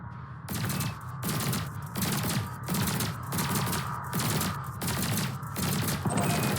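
Ship weapons firing in Elite Dangerous, a steady rhythm of repeated bursts, each a dense rattling volley about half a second long with brief gaps, fairly loud and continuous throughout.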